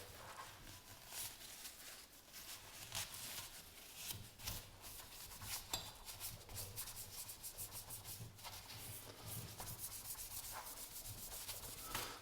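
Steady scrubbing and rubbing of acetone over fuel residue or varnish on a 1960s Unimet stove, a close, continuous gritty friction with uneven strokes and no talking.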